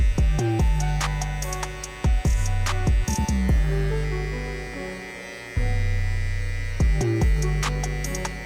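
Electric hair clipper buzzing steadily up close while cutting design lines into the side of a man's curly-haired fade, the hum dipping and restarting between short passes.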